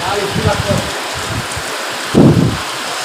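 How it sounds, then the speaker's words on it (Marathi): Loud heavy rain pours steadily, with a few low thumps and a brief rumbling gust under the downpour. "पाऊसच एवढं पडतो"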